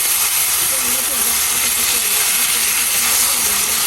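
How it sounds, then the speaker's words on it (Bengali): Soft pabda fish sizzle in hot oil in a pan, giving a loud, steady hiss throughout with faint crackling beneath. "মাছগুলো ঢেলে দেখছো, নরম মাছ তো হালকা কষাবো"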